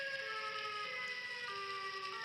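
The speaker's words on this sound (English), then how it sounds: "the siren was like breaking or something" A wavering tornado warning siren wails continuously, its pitch sliding and stuttering as if malfunctioning, heard as a steady loud drone from a video with no talking.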